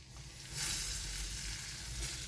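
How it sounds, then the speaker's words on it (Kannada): Two spoons of hot oil poured into chakli flour, setting off a soft, faint sizzle and crackle that swells after a brief quiet start and holds steady to the end. "ಇದಕ್ಕೆ ನೋಡಿ 2 ಸ್ಪೂನ್ ಆಗಷ್ಟೇ ಎಣ್ಣೆಯನ್ನು ಕಾಯಿಸಿ ಹಾಕ್ತಾಯಿದ್ದೀನಿ"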